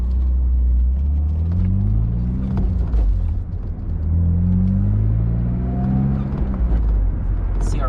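BMW Z3 2.3 six-cylinder driving around town, heard from inside: a steady low engine rumble rising and falling as it revs and shifts gears at moderate RPM, with a voice talking over it.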